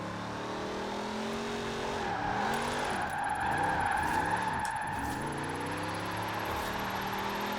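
A car in Forza Horizon 4 slides sideways on stock tires, its engine revving up and down in looping swoops under a steady tire squeal, loud and continuous with no talking.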